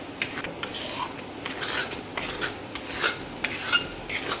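A spoon scrapes and stirs a thickening paneer sweet mixture in a kadai in quick, repeated rasping strokes, close and fairly quiet, with no talking.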